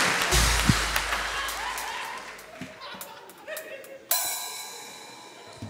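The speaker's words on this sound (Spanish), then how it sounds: "Un fuerte aplauso, por favor, para Kevin DeBruyne." A live comedy-show audience in Peru gives a round of applause, dense clapping with chuckles mixed in that fades down, then a sudden bright burst of sound near the end, with voices under it.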